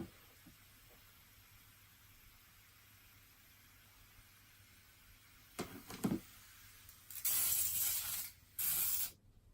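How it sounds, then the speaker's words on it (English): Quiet background hum, then a few short hissing sprays from a spray bottle misting water in a Burgundy Goliath birdeater tarantula's enclosure, followed by two longer bursts of misting, close and fairly loud. "Stupid spray bottle."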